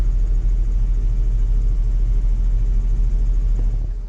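Steady low rumble of a Fendt tractor engine running as it drives, a constant close drone with no breaks.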